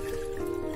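Water trickles steadily into a pan for making sugar syrup at a 1:2 sugar-to-water ratio, a soft continuous pour heard close and quiet.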